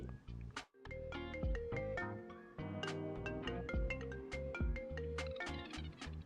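A phone call ringtone used as an audiobook sound effect plays alone, a bright synthesized melody of quick repeating notes lasting several seconds.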